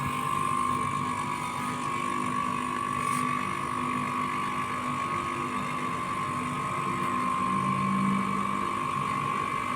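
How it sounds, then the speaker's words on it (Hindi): A repaired compressor switched on and running, giving a steady, even mechanical hum with a constant whine, close by and unchanging for the whole stretch, with no talking. "हमारा कंप्रेसर चालू हो गया है"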